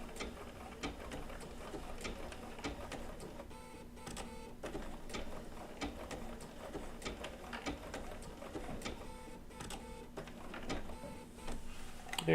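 A Bernina B790 PRO sewing machine with a 20C open toe foot stitches wool appliqué, giving a steady, quiet mechanical whir with fast rhythmic needle ticking that runs continuously.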